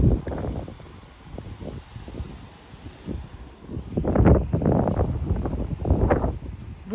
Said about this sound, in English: That was a good 25-mile-an-hour gust on my dead tree right there.